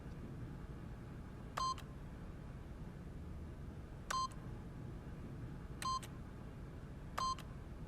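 Keypad PIN code entered in the video game The Stanley Parable: four short electronic beeps spaced irregularly over a faint background hum.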